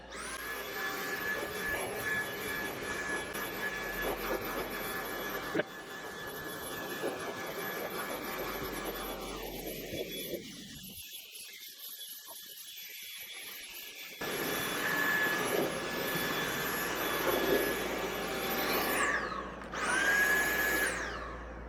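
A Dyson cordless vacuum cleaner running on a replacement battery while vacuuming a rug, a steady high-pitched whine and airflow roar that briefly drops in tone midway and rises again near the end.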